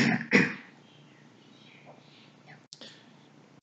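A man coughs once, a short sharp burst at the start, followed by quiet room tone, faint mouth sounds and a small click later.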